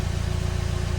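A car engine idles steadily while warming up on a cold start, a constant low rumble with even, close vibration and no other sounds.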